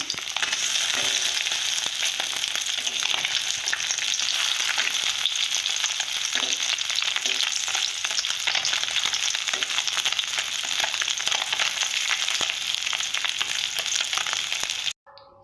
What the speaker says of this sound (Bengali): এইভাবে ভালো করে ভেজে নেব এক এক করে উল্টি দেবে এইভাবে